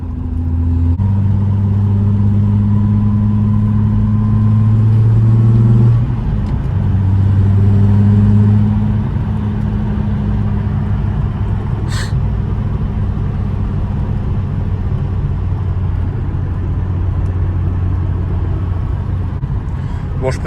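A Volkswagen Golf 2 with a VR6 engine drones steadily from inside the cabin while driving, with a deep, loud, truck-like rumble that shifts pitch around the gear changes, and there is no speech.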